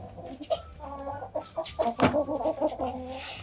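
Several hens cluck and murmur close by in quick, uneven bursts, with layered throaty calls overlapping.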